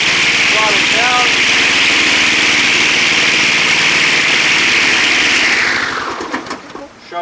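Small gas engine of a Craftsman 22-inch walk-behind trimmer runs steadily at close range with a loud, constant buzz, then winds down and cuts off near the end.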